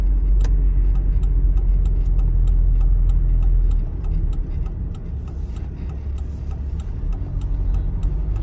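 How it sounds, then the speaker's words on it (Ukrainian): Car turn signal clicking at a steady, even rhythm inside a moving car during a driving test, the ticks sitting over a constant low road and engine rumble. "вимикаємо поки що повороту. Вмикаємо знов."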